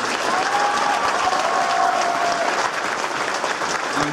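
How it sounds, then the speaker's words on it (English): Steady crowd applause for marching band section leaders, continuous dense clapping at an even level throughout, with a faint tone passing underneath. "How about a hand for those groups?"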